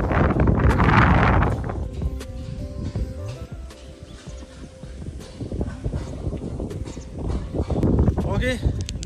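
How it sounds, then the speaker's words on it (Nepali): Strong gusts buffet the microphone in a village near a suspension footbridge, a loud roaring rumble that surges and eases throughout, with a voice speaking under it at times. "बब्बाल हावा चलिरहेको छ।"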